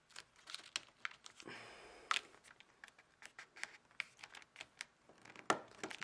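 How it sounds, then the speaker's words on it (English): A paper sheet is folded and creased by hand for an origami heart box, giving faint close crinkles and sharp little taps and rustles in short bursts, with no talking. "So we're going to take this corner and fold it right up."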